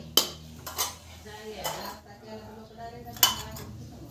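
Glasses and dishes clink and clatter while tea is being made on a cold evening, a few sharp metallic chinks standing out over quieter handling, with a voice talking softly underneath.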